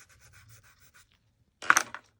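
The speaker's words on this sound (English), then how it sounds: "I can also scrape into them. Let's just use the back of my brush." Brief, dry scraping as the back of a brush drags through pigment bar paint on mixed media paper, a soft rhythmic rubbing followed by one louder, short scratch near the end, close and alone.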